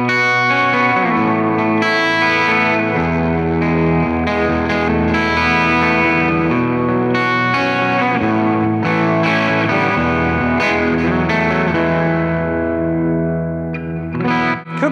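Electric guitar played through the Wicked Tone preset of a Fender Tone Master Pro, a loud, sustained, effects-heavy tone with chorus, echo and reverb, ringing continuously with no talking.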